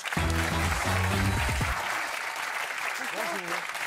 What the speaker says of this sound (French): Je vous demande d'applaudir Denis Jacopini.